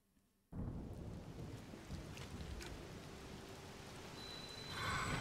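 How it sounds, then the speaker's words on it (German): A thunderstorm in the video game Zelda: Tears of the Kingdom: steady rain and a low rumbling roar start abruptly after a quiet moment, then swell slightly louder near the end, with no voices. "Das sieht nicht gut aus, wenn es jetzt gewittert."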